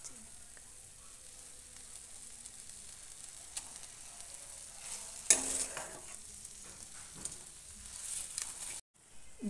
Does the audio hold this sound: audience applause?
no